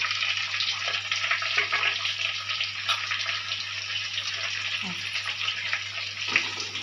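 Onion and garlic sauté in a pan with a continuous soft hiss and sizzle, faint and steady, with light stirring noises.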